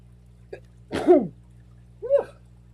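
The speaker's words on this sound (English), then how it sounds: "I'm going to sneeze." A close, sharp sneeze, preceded by a small inhaled catch and followed about a second later by a shorter, softer second burst, against a quiet steady hum.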